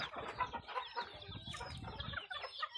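Fighting chickens on a farm clucking and calling in short overlapping bursts, fairly close but quiet, with no talking.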